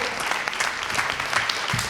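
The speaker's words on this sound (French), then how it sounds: "Alors, on va applaudir nos 4 intervenantes." Audience applauding four speakers at the close of an entrepreneurship event in Geneva, a steady wash of clapping from a moderately sized crowd with no talk over it.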